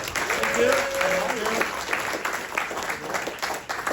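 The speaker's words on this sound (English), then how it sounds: "give him a round of applause" A gala launch audience for RIO Sound & Vision applauds a guest from Denmark, giving a continuous round of clapping with a whistle or cheer near the start and voices mixed faintly underneath.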